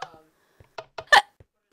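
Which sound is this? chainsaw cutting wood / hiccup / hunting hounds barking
hiccup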